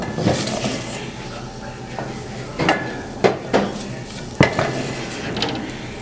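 A spoon stirs jackfruit stew sizzling in a pan, a continuous frying hiss broken by sharp scrapes and clanks against the metal, close and fairly loud.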